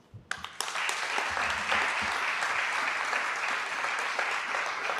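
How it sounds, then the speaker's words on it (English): Audience applause at an evening school board meeting, starting with a few scattered claps before swelling into steady, sustained clapping from a roomful of people. "Please join me in giving a warm round of applause"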